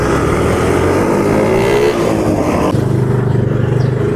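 A motorcycle rides along a road with a steady, loud engine drone and wind noise, and its tone shifts partway through.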